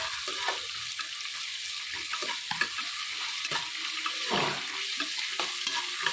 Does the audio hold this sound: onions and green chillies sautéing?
yes